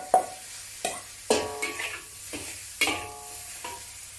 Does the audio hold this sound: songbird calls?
no